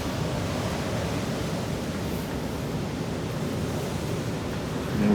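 Steady broadband ocean surf at Montara Beach near San Francisco around sunset, a continuous wash of breaking waves with some wind, evenly loud throughout and swelling slightly at the end.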